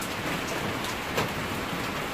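Steady rain falls in a dense, even hiss on surfaces, close and continuous, with a faint low rumble beneath and no talking.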